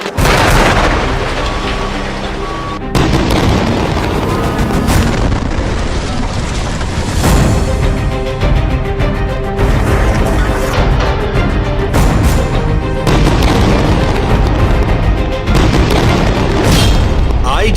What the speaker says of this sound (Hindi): हमास के लड़ाकों और हमास के अड्डों पर बमों की बारिश की जा रही है